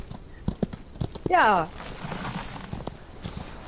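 Horse hooves clopping in the Old West video game Outlaws of the Old West, a short run of soft steps under someone speaking German, with a brief whinny-like burst in the middle.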